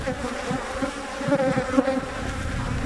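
A thick, continuous buzz of many honeybees leaving the hive nearby, a busy humming drone with individual bees zipping past.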